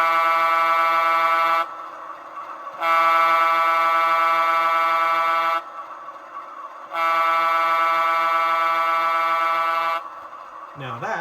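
Athearn Genesis UP U50 model locomotive sounding its long horn, heard as two sustained, steady multi-tone horn blasts through a speaker, with a brief pause between them.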